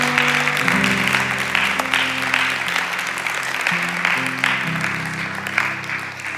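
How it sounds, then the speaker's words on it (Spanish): A church congregation applauds loudly and steadily at a Mother's Day service, the clapping running throughout with a sustained organ or keyboard chord held beneath it. "Denle un fuerte aplauso al Rey de Reyes y Señor de Señores"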